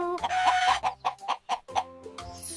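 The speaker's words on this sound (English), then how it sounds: "Who's crowing in the morning? It's a rooster." A rooster's loud, close, choppy crowing and clucking comes in a quick series of bursts with brief gaps between them.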